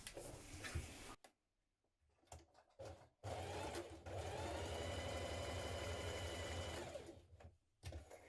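A sewing machine runs in short bursts and then one long steady run, stitching the centre back seam of a vintage-style coat, close up with brief pauses between runs.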